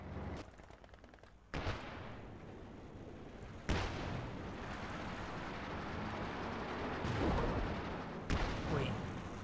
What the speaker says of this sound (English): And the barrage in the central VP almost gets the Volksgrenadier.